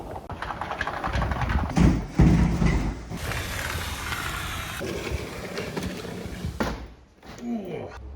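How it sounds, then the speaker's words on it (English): A door or window slides along its track with rough rumbling and scraping, loud and close, followed by a thud and shorter rattling movement. "Do your doors sound like this?"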